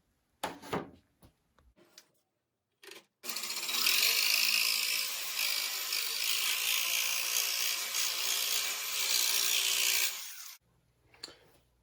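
A jigsaw cuts a wooden anti-kickback fin for a Delta 10-inch contractor table saw. A few brief knocks come first, then a loud, close, buzzing saw runs steadily for about seven seconds before stopping.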